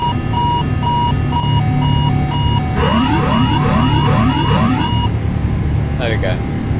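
Repeated electronic cockpit warning beeps from a PMDG 777-300 in Microsoft Flight Simulator 2024 sound in steady pulses, then a warbling alert tone and a brief chirp, loud and close over a low background hum.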